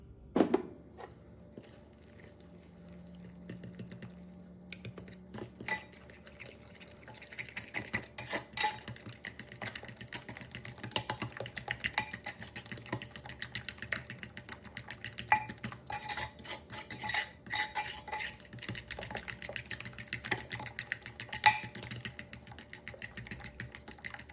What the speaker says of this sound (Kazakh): Келесі қантты қосып, бәрін біріккенше жақсылап араластырып шығамыз.